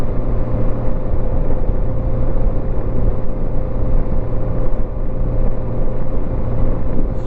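A 1987 Honda GL1200 Goldwing motorcycle cruising down the road at around 70, producing a loud, continuous engine rumble with a steady low hum and wind noise, recorded from the rider's position without talking.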